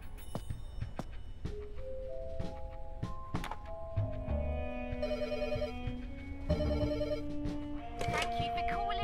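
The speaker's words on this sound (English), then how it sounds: "Oh, payphone." A payphone rings with repeated electronic bell-like tones in a steady pattern, close and clear, along with some thunks and background noise.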